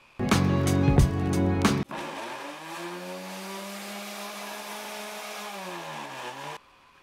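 An electric sander works on old painted bedside tables, opening with a loud, rough burst before settling into a steady, droning motor whine that runs for about five seconds and then cuts off, with no talking.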